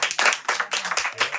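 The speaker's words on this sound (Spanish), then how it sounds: "Hacemos un aplauso a Elizabeth" An audience claps at a public gathering honouring a guest, a brief burst of close, uneven hand claps in quick bunches.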